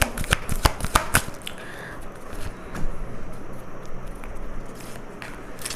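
Tarot cards are shuffled and drawn from a deck at close range, starting with sharp riffling flicks, then softer continuous shuffling and sliding.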